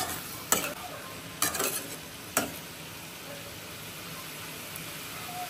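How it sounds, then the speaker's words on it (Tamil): Onion and tomato being sautéed in a pan for fish kuzhambu: a faint, steady sizzle with three brief scrapes of a spatula early on, then continuous low frying noise. "தக்காளி போட்டு நல்லா வதக்கணும்"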